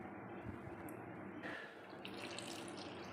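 Water poured into a cooking mixture of banana stem kootu with tomato and spices, a soft steady trickling and splashing stream with a brief change in flow midway.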